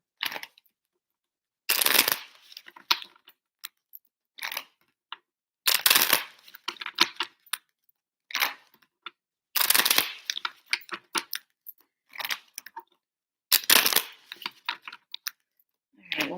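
Tarot cards are shuffled in repeated bursts of riffling and slapping, each lasting about a second, separated by short quiet gaps, close and crisp, with no talking.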